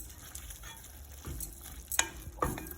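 Bitter gourd curry fries in a pan and is stirred, with a low sizzle under a few scraping stirs and utensil knocks, fairly quiet.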